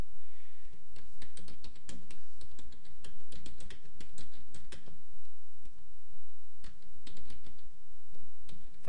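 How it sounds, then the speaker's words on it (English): Rapid keystrokes on a computer keyboard as an invoice message is typed, a steady run of close, crisp clicks in short bursts with brief pauses, no talking. "we will now type in the text that we want to show on the invoice."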